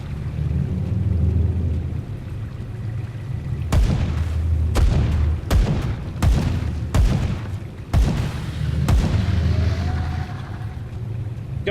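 Guns firing in the Grim Dawn video game: about eight heavy, booming shots at uneven intervals over a constant low rumble of background noise, loud and close.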